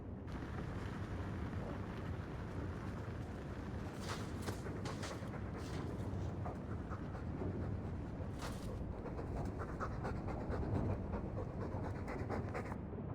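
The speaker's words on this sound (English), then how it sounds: "All that noisy dog breath, day in, day out." Dog panting in Dragon Age 2, a fast, rhythmic huffing of breath running continuously and fairly quietly under a breathy, windy hiss, with no talk.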